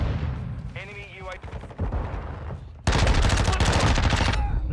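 Gunfire in the video game Call of Duty: Modern Warfare 2, loud rapid automatic bursts dominating the second half after quieter game sounds and a short electronic tone.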